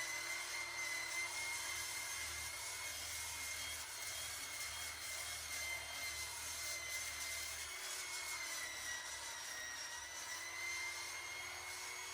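A Restore power tool fitted with 80-grit paper sands a wood plank for a rustic bench. Its loud, steady whirring grind stays close and continuous throughout, with no talk.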